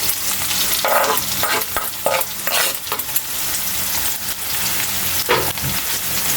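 Garlic frying in a hot pan crackles with a loud, dense sizzle, broken by bursts of stirring that flare up and settle again, with no voices.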